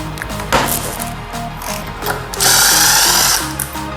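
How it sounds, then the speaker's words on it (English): A power tool spins against the large front axle bolt of a Suzuki GSXR in close, loud whirring bursts, ending in a sustained high-pitched run as the bolt loosens. "now I can go ahead and loosen this big bolt here."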